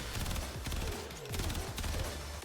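Rapid burst-fire gunshots from a primary weapon in the sci-fi shooter Warframe, sharp cracking volleys repeating in quick clusters across the whole stretch, loud and close with game sound effects layered underneath.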